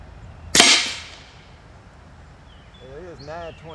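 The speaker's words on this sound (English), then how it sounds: "50 yards, first shot. I'm going to shoot the left-hand side target." A single sharp crack from an AEA Terminator gen2 .30 cal air rifle firing 54.5 grain slugs at a target 50 yards off, loud and close, decaying quickly, then a quiet tail with faint warbling birdsong.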